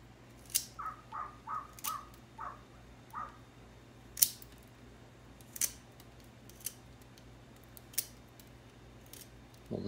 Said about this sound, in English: Sharpen a pencil.